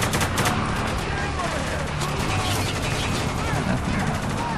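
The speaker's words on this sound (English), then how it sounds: "Taking heavy fire!" Heavy gunfire in the military shooter game Spec Ops: The Line. A continuous barrage of rapid shots and explosions runs steadily throughout.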